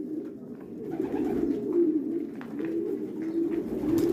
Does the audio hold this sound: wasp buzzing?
no